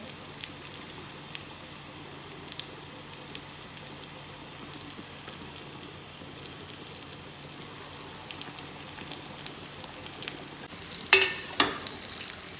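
Pakoras frying in hot oil give a soft, steady sizzle and faint crackle, quiet and constant, with a burst of louder clatter and bubbling near the end.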